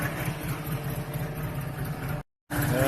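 A Honda 600 sedan's small engine idles with a steady, close, even putter, broken by a brief gap of silence near the end before resuming.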